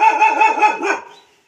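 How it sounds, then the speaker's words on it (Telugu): A dog near a goat pen gives one sustained, close bark-like growl that lasts about a second, then fades into silence. "ఇక్కడ దొడ్డి దగ్గరికి వస్తే కుక్క అయితే మురగడం జరుగుతుంది."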